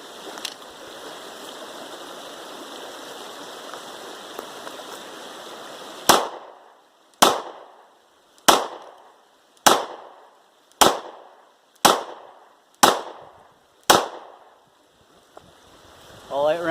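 A Glock 43 pistol fitted with a magazine extension fires eight evenly spaced shots, each a sharp, loud crack with a short decaying tail, after a stretch of quiet outdoor ambience.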